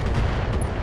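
Mech weapon fire from a Locust in BattleTech, a single dense burst of heavy booming gunfire filling the whole short moment, loud and close with no voices.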